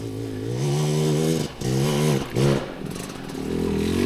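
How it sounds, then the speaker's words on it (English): Dirt bike engine laboring up a steep single track near Pagosa Springs, Colorado, close and loud, revving in surges with two brief throttle drops before pulling hard again, no talk. "bike's working hard already"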